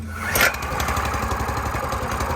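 A Weima WM50 rotary tiller with its choke on and fuel tap open is pull-started: a sharp rattle of the starter, then the small engine catches and settles into a steady, close, throbbing run.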